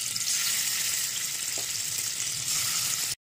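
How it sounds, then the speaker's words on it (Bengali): Paneer sizzles steadily in hot oil in a pan, a continuous bright frying hiss with a faint soft scrape, ending abruptly. "এই ম্যারিনেট করা পনিরগুলোকে একটু লো ফ্লেমে এদিক ওদিক করে একটু সেঁকে নেব"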